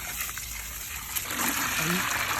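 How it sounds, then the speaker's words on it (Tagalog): Strong water gushes from a tap in a steady, loud hissing rush, with a voice speaking faintly over it toward the end. "Kita nyo kung gano'ng kalakas ang tubig."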